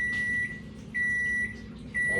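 Microwave oven heating a single portion of couscous gives three evenly spaced electronic beeps, each about half a second long, clear and near over a steady low appliance hum.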